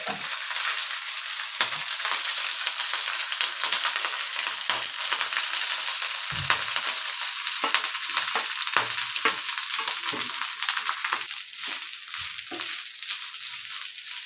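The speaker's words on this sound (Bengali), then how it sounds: "গোটা মশলাগুলো ফ্রাই করে নেব। অ্যাড করে নিতে হবে রাইস।" Whole spices and rice fry in a pan for a fried rice dish, a steady loud sizzle with occasional stirring scrapes throughout, no voices.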